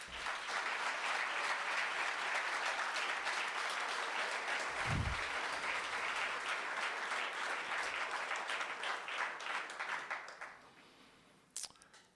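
An audience applauds Jermaine Craig at his send-off event, sustained dense clapping from a large room with a brief low thump midway, fading toward the end before a sharp click.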